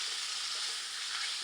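Soy sauce sizzling in a frying pan with vegetables and smoked pork, a steady bright hiss of frying close up and fairly quiet.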